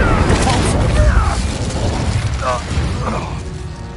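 An Incendio fire spell blasts during combat in Hogwarts Legacy, a booming, clattering burst followed by mechanical rattling and crackle, with game voices and spell sounds around it.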